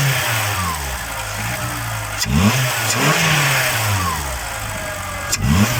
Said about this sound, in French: je vais mettre un coup d'accélérateur